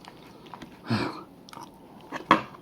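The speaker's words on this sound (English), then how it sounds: "Just gonna eat some of my stroganoff or whatever the fuck it's called." Quiet chewing and biting of a forkful of stroganoff close to the mic, a soft squishy bite near the start and a sharper crunchy one near the end, in a quiet kitchen with no talking.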